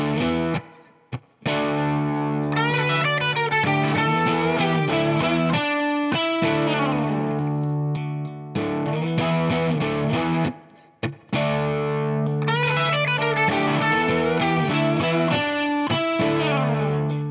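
Electric guitar with distortion plays rock licks over a backing track, chugging riff phrases repeating with short pauses between sections, loud and full, no voice.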